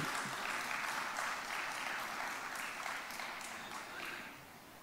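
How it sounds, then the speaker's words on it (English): Applause fills a memorial service, a continuous wash of many hands clapping from a gathered audience, fairly distant and gradually tapering off toward the end. "I think that deserves a round of applause"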